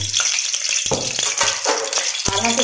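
Pieces of chicken fry in oil in a kadai for dum biryani. A continuous bright sizzle runs alongside several distinct stirring knocks and scrapes, close and fairly loud.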